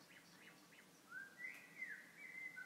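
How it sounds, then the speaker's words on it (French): Faint bird chirps and a few thin whistled calls rise over quiet mountain forest ambience, scattered and distant, with no voices. "Vous entendez la conversation des oiseaux"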